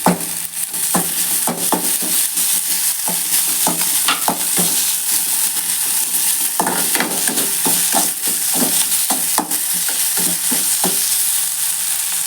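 Curry leaves, ginger and garlic fry in hot oil, giving a continuous loud sizzle broken by frequent sharp pops and spatters throughout.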